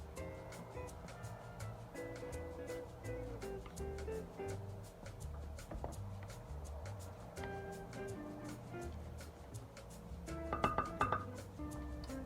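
Dumpling dough ingredients with salt being mixed in a bowl, heard as faint scraping, soft clinks and taps against the bowl throughout, with a brief burst of louder clinking near the end, close and quiet.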